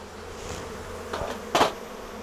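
Honeybees buzzing around an open Flow Hive Classic beehive, a low steady hum with a few louder passes as bees fly close by, no voices.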